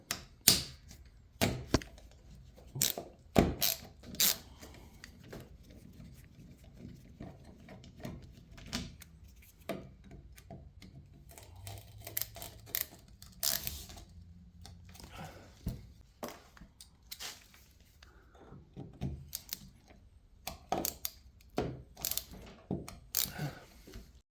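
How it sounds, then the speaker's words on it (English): A screwdriver backs Phillips screws out of an old, rusty truck topper handle: close, irregular clicks and ratcheting metal scrapes in scattered bursts, quiet overall, with no talk. "We're just gonna start by taking out these 2 Phillips screws here."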